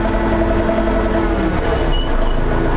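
A new DTZ 504 KKU tractor, barely run in, revs its engine with a steady, loud droning rumble and tonal whine, close by and with no talk.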